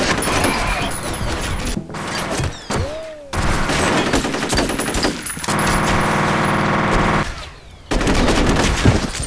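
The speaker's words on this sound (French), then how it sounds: "Il tire à travers les murs." Sustained automatic gunfire blasts through walls during a F.E.A.R. firefight, loud and nearly continuous rattling volleys broken by a few brief pauses, with a crash and thuds mixed in.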